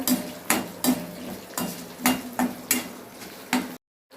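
Dried red chillies and green chillies are sautéed in a pan for beetroot chutney, with a ladle scraping and clinking against the metal in a steady rhythm of about eight close strokes over a faint sizzle.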